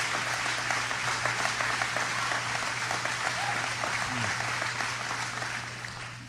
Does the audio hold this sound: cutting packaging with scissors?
no